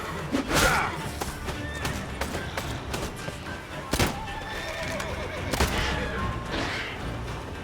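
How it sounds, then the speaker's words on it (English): A horse in The Witcher 3: Wild Hunt, glitching, gives a loud whinny near the start, followed by sharp thumps and more neighing amid hoof clatter and game ambience, fairly close and busy throughout. "My horse is glitched."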